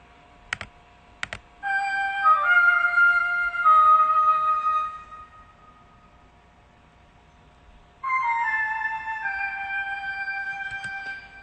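A flute melody plays from FL Studio software in two short sustained phrases separated by a pause, with a couple of sharp keyboard or mouse clicks just before it begins.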